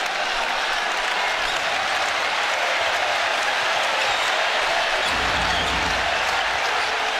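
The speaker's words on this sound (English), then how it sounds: "This crowd's starting to feel it a little bit now." A basketball arena crowd claps and roars in a steady, loud wash of applause during a tight game, with a low rumble of cheering swelling near the end and no clear voices.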